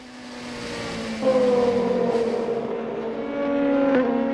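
An LMP2 prototype race car in the European Le Mans Series at Silverstone drives into the pit lane to serve a penalty, its engine a steady, loud droning tone that shifts pitch mid-way, with no voices over it.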